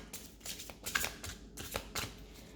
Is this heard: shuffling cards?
yes